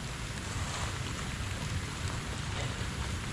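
Steady, dense hiss of falling rain, fairly faint and unbroken, with a low rumble underneath.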